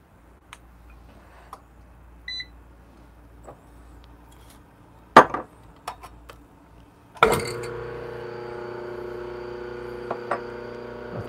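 An EK43S coffee grinder fitted with 98mm SSP burrs grinds coffee for V60 filter brewing, starting as a sudden steady motor whir after several scattered clicks and taps, and running loud to the end.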